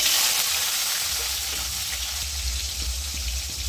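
Chopped tomato hitting hot spiced oil with black cumin seeds for a Bengali potato and pointed gourd fish curry, a bright continuous sizzle with a low bubbling rumble beneath, close and steady throughout.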